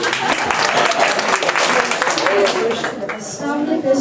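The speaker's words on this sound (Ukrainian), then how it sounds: "Ваші оплески!" Audience applause at a children's church-hall performance of songs and poems for St. Nicholas, dense steady clapping that fills the space, with voices and cheering mixed in and a musical tone rising near the end.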